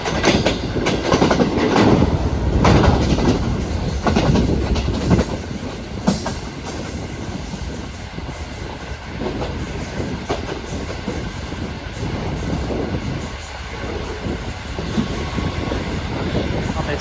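JMU diesel train on a Pakistani railway line, a loud rumbling roar of engine and wheels with rhythmic track clatter, heaviest early on and then easing into a steadier rolling drone, with faint talk in places.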